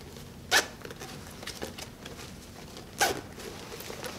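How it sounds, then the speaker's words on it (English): The front zipper on a Prima bra is pulled in two quick, close rasping zips spaced a couple of seconds apart, with quiet fabric handling between them and no talking. "I unzip the front, can take the extender and zip up in the inside on one side."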